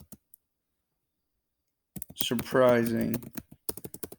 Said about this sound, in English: Sorry, my typing's really bad.